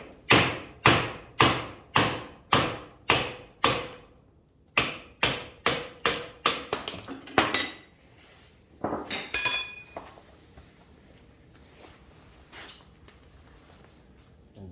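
A hammer drives a 1 1/4 inch socket on an extension to knock out the rear wheel bearing of a Yamaha YTM 225 ATV: about a dozen loud, evenly spaced metallic smacks that quicken, then scraping and clinking.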